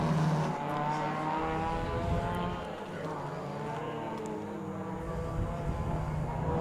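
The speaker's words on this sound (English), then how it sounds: "There goes Shirley in her TR7." A Triumph TR7 historic race car drives past at a Sandown historic race meeting, its engine droning steadily at a moderate distance and then easing off.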